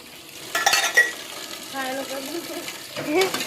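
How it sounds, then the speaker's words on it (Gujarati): Dishes clatter and scrape intermittently, with brief clinks of utensils and a soft scrubbing rub, close by, with a faint voice in the background. "ચલો ફટાફટ વાસણ ઘસી નાખું"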